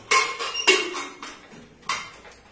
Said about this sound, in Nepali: यसलाई कुकरमा सिटी लगाइदिने